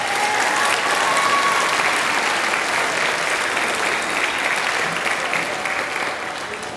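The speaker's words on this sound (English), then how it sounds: "Give them one more round of applause." Audience applause fills a middle school spring choir concert hall, a steady dense wash of many hands clapping that holds for several seconds before easing slightly toward the end.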